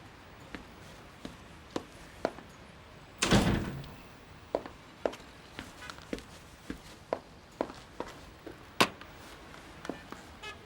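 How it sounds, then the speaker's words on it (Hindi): An interior door shuts with one loud, thudding slam partway through, amid a scatter of light footsteps and small knocks before and after in a quiet room. "अंदर आओ और दरवाजा बंद कर दो"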